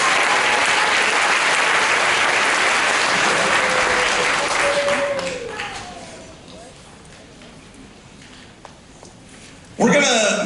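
High school jazz concert audience applauding, loud dense clapping that fades out midway into a quieter room with a few scattered sounds, then a sudden loud burst at the end.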